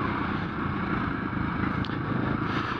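Husqvarna FE501 dirt bike being ridden after a flooding, a steady low engine drone with continuous rumble and wind, close and fairly loud, no clear revs or gear changes.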